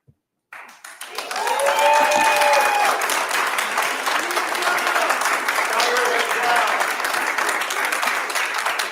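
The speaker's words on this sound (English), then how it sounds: "Please refrain from the applause, please." At a school board meeting, a crowd breaks into sustained applause that swells quickly and holds steady, with a voice faintly audible over the clapping.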